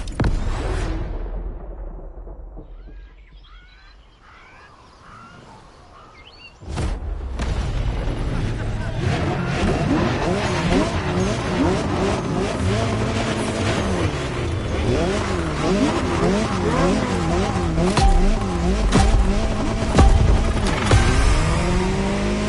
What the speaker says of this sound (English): Jaguar CX-75 concept.